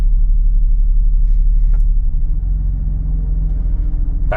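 A Mercedes SL R230 with about 182,000 miles idles steadily with a low, even rumble, the engine note shifting slightly as the gearbox is moved between neutral and drive, close and continuous with no talking.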